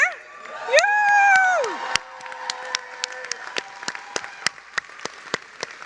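Graduation crowd at a 2023 design school commencement in Irvine Auditorium cheering loudly at first with whoops and shouts, then settling into scattered, sharp individual claps.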